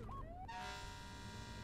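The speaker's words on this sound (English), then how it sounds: "Honk that horn." A fire truck horn in the Flashing Lights game sounds a rising toot, then settles into a sustained, loud, steady blare that holds to the end.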